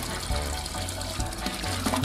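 Water gushes steadily from a tap into a mash kettle for home beer brewing, about 20 litres, a continuous loud splashing fill with no break.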